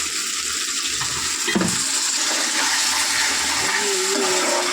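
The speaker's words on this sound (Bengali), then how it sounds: "একটুখানি জল দিলাম কারণ মশলাগুলো যেন বেগুনের ভিতরে ঢোকে" A small splash of water poured into a hot pan of spiced eggplant cooking with onion and garlic, hissing and bubbling steadily throughout, close and fairly loud, with a brief sharper burst in the middle.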